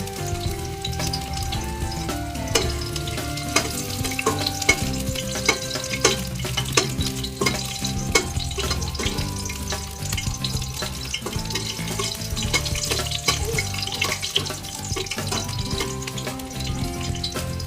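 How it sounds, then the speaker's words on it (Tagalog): Ginger dropped into a hot pan sizzles and fries steadily for ginisang monggo with pork and ampalaya, a dense continuous crackle with occasional stirring clinks and faint tonal background, fairly loud and close, no talking. "Ilagay na natin itong ihulog natin yung ating luya"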